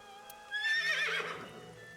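A single synthetic merry-go-round horse whinny from the video game AI: The Somnium Files rises and trails off over a steady musical tone, clear and close.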